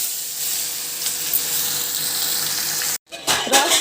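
Water pours steadily into a pan of cucumber and potato curry, a continuous hissing splash for about three seconds before cutting off, followed by a few clatters.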